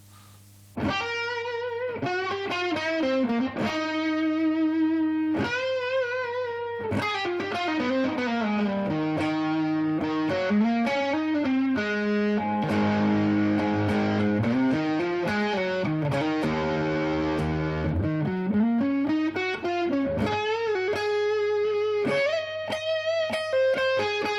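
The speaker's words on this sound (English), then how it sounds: "let's plug in a Les Paul now and hear how it sounds different with humbuckers" An overdriven Les Paul electric guitar with humbuckers, played through a Suhr Shiba Drive pedal, plays a long melodic phrase with thick, sustaining notes and chords, steady and loud with no voices.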